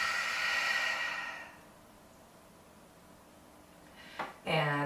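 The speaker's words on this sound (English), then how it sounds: "Deep breath out." A deep, slow exhale during a breathing exercise, a long breathy rush that fades to quiet, followed near the end by a brief sharper intake of breath.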